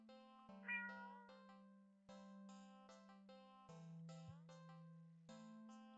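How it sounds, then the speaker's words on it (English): A cat in an indie horror game meows pitifully, several drawn-out synthesized meows in sequence, clear and close over a steady game music drone. "the cat meows almost pitifully at you"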